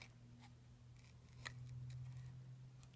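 Scissors snipping around a paper pop-up card, a few close, light cuts over a steady low hum, with no one speaking.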